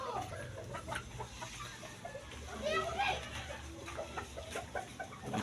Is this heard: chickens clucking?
yes